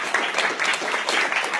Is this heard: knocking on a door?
no